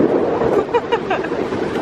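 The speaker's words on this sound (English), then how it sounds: "It is a very, very, very windy day here today." Strong wind blows at the beach on CocoCay, a Royal Caribbean stop, roaring and buffeting the microphone continuously, with a faint voice murmuring briefly under it.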